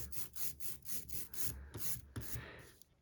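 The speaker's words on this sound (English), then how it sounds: "I'm gonna pick up my roller and roll it down, roll it to the side" A roller spreading ink over a surface makes repeated rolling strokes with a tacky, rasping texture, several passes in a steady back-and-forth rhythm, close up and fairly quiet.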